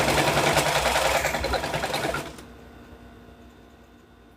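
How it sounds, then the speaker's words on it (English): Sewing machine stitching fabric into place, a close, fast mechanical whirring that runs steadily, then stops and leaves near silence with a small click at the end. "We're just getting this sewn into place."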